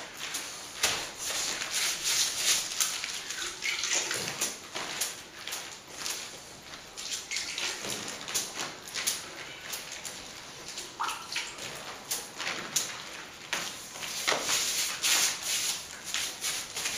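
Water sprayed and splashed onto a plaster wall chase in a roughly 100-year-old house before filling, a steady hiss of broadband wetting with irregular bursts and pauses, close up, with no voices.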